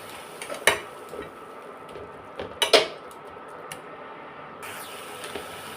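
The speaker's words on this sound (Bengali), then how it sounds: "এবার ভালো করে একটু নেড়ে নিচ্ছি" Cashew pieces stirred in a metal cooking pan for a watermelon-rind curry, with a few sharp spoon clanks against the pan standing out over a soft scraping and faint sizzle.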